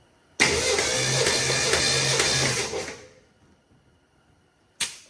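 A 1968 Mustang V8 engine cranks steadily for a few seconds with a rhythmic, uneven chugging and spark knock, then stops, followed by a brief sharp burst at the end.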